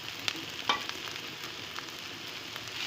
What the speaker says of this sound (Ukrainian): Цибулька наша підсмажилась і зараз я додаю е, печериці